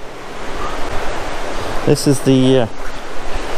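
Sea waves near cliffs produce a steady, loud surging wash as someone briefly speaks over it in the middle.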